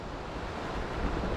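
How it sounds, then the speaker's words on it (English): Water rushing over a shallow river weir beside a canal feeder, a steady broadband wash with low wind rumble and no talk. "just over on the left here is the weir I was talking about that takes the water off to the canal feeder"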